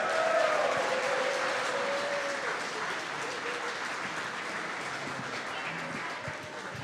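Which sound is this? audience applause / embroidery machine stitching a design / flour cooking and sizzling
audience applause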